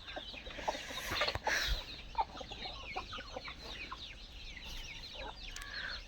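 Soft, scattered clucks come from a small backyard flock of chickens, steady and fairly faint throughout, with a brief louder flurry early on.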